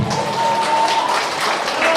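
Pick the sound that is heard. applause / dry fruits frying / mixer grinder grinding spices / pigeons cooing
applause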